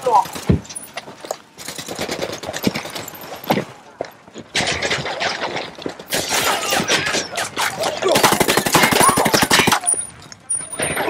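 Heavy gunfire fills a firefight in the video game Ghost Recon Wildlands, with rapid automatic bursts, single cracks and shattering impacts coming in dense waves and short pauses, loud and close, with voices mixed in.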